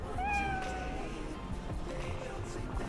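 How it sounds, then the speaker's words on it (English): A cat meows in the Cyberpunk 2077 video game, a few rising tonal calls early on, then a steady low rumble under a busy game soundscape. "There's a lower purr as well."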